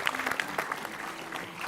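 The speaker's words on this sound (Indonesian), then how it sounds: "Oke, tepuk tangan buat Siti." Studio audience at an Indonesian talk show applauds a guest, a steady wash of many hands clapping at moderate level throughout, fairly close, with no talk over it.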